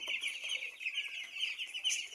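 Young broiler chickens on a farm peep and cluck in a continuous high-pitched chorus, faint and slightly distant, with no one talking.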